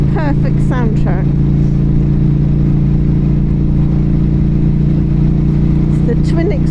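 A 2023 Norton Commando 961 SP engine drones loud and steady through twin exhausts, holding a deep even note throughout, with brief faint voices near the start and end.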